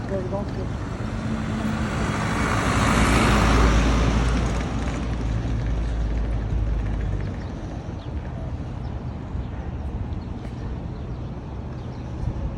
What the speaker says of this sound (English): you have to share the street with heavy vehicles traveling at unsafe speeds for human beings